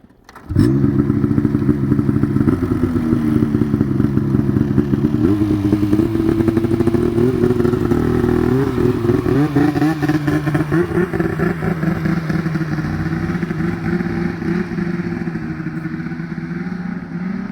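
A motorcycle engine runs steadily and loudly, a continuous rough mechanical drone with slight fluctuations in pitch throughout.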